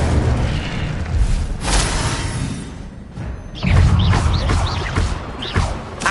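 In the video game Hogwarts Legacy, an Incendio fire spell is cast with a booming whoosh and thud, amid other spell impacts, rushes and chiming flourishes in a busy, loud mix.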